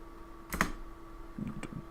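A few faint, scattered keystrokes tap on a computer keyboard that sometimes adds random double spaces, set against a quiet steady hum with long pauses between presses.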